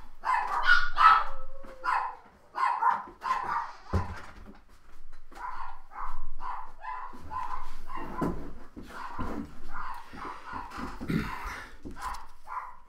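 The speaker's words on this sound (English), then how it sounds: "They like to bark whenever." House dogs bark in repeated loud bursts, with some yips and whimpering, clearly close by and continuing without pause through the whole stretch, no talking over them.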